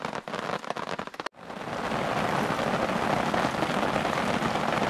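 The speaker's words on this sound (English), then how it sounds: "Then it started to rain." Steady rain patters down in Sweden, a dense even hiss that swells after a brief sharper stretch at the start, continuing without voices.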